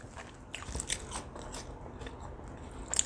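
Biting into a crunchy pan-fried catfish taco with sriracha, close and clear: a crisp crunch followed by a few seconds of crackling chewing and light scraping.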